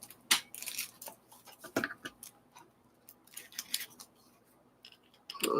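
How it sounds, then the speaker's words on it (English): Scissors snip up a label while a custom diamond painting order is packed, giving a string of short, sharp, close-up cuts and clicks at an uneven pace. "So I'm just cutting the label up."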